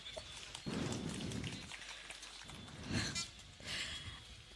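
Rain falls on an outdoor public meeting in Vikravandi, a steady hiss of drops with heavier gusts that swell and ease over several seconds, with no voices.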